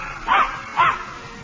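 A small trick dog in a radio comedy routine gives two short yapping barks, evenly spaced as if counting, close and clear over a faint hiss, with no speech.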